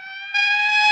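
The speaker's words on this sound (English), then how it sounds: "That's the 5th siren in the last hour." An emergency vehicle siren wails in a steady, bright, harmonic tone that rises slightly in pitch and loudness over its short span, clear and fairly close.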